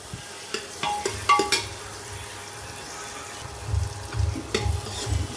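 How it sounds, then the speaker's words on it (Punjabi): Spices roast and get stirred in a pan for an aloo beans dish. Soft sizzling runs under repeated scrapes and clinks of a utensil against the metal, and a few louder stirring bursts come near the start and the end. "ਮਿਕਸ ਕਰ ਦਾਂਗੇ ਇਹਨੂੰ ਚੰਗੀ ਤਰ੍ਹਾਂ ਮਸਾਲੇ ਨੂੰ ਭੁੰਨ ਲਾਂਗੇ"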